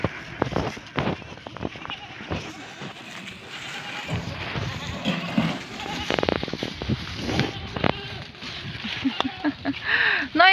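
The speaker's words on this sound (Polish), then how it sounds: "Kozy." Goats on a farm bleat repeatedly over a continuous busy wash of animal noise and movement, calls rising and overlapping close by throughout.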